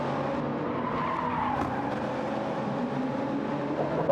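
Continuous tire screeching and skidding from cars racing at Lago Maggiore in a racing video game, a steady loud squeal over engine noise with no talk.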